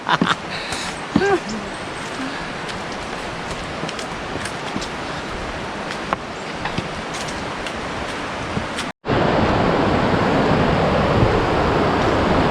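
Tappiya Falls waterfall at Batad, Banaue, Ifugao, a steady loud roar of rushing water that briefly cuts out and then returns even louder and closer, with voices faintly underneath.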